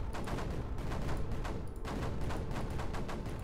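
Missile and weapon fire in the strategy video game CW4 rolls out as dense, continuous rapid bursts that stay loud and steady almost throughout.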